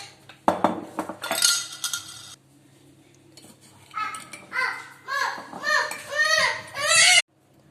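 Dry ingredients for egg-free, milk-free pizza dough, flour with thyme and sugar, being stirred in a bowl, with sharp clinks and scraping of a spoon in bursts, while children's voices chatter and cry in the background.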